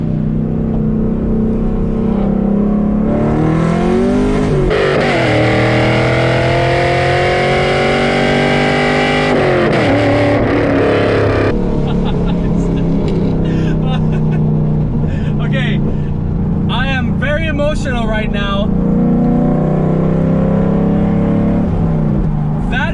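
A loud straight-piped car exhaust revs repeatedly, rising and falling with harsh rasp, close up, while rapid engine pulses crackle between revs.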